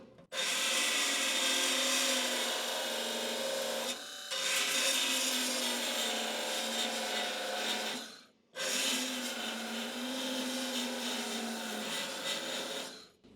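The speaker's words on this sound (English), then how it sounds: "So this is my belt sander. This is an electric one, which I've kind of fallen in love with this tool." An electric belt sander grinds through spot welds on a 1970-81 Camaro floor pan brace in loud, sustained rasping passes, with two brief pauses between runs.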